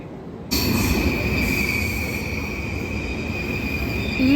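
A train bound for Graz rolls on its rails, a steady loud rumble starting abruptly and holding with a sustained high wheel squeal over it, rising again near the end.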